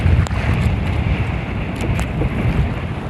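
Strong wind roars steadily across the microphone at sea on a small fishing boat, with broadband rushing and low buffeting gusts throughout, and water and boat noise beneath.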